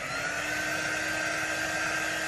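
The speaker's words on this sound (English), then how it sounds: "I can get my dryer and just kind of give it a" A steady, loud hair dryer whirring with a high motor whine, constant and close, running without pause while drying paste on a screen.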